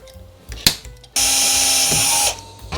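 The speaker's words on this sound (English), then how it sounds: "that's where I'm going to drill my hole." A power drill whirs loudly at a steady pitch for about a second while drilling a hole for a Toyota Altezza oil cooler install, preceded by a few clicks and handling noises nearby.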